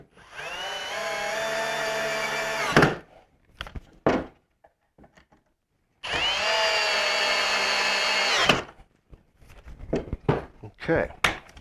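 A variable speed power drill drives screws into the wood of a drawer, two sustained whirring runs of about three seconds each rising in pitch, separated by quiet handling clatter and knocks, close and loud.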